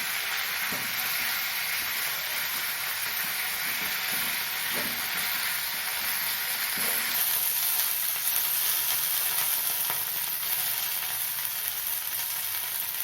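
Steady sizzling of vallarai keerai (gotu kola greens) frying in hot oil, a continuous bright hiss with a few faint stirring clicks, no voices.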